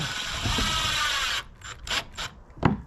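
A power drill drives self-tapping screws into a plastic kayak deck hatch, a sustained whirring run for over a second followed by a few short bursts and a sharp final click, close and moderately loud.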